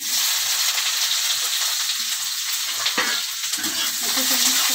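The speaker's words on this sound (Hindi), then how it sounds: "दो कटी हुई प्याज डालेंगे" Two chopped onions drop into hot oil with crushed cardamom for a dhaba-style aloo gobi, giving a loud, steady, close sizzle with faint stirring scrapes and no speech.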